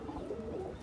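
A pigeon gives a brief, soft, low coo nearby, faint and quiet, with nothing else heard.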